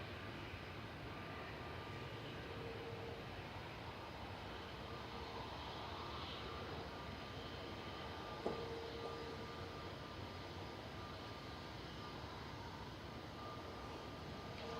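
An Airbus A380 departing Manchester Airport on a hazy day, heard as a faint, distant, steady jet engine rumble throughout, with a single small knock partway through.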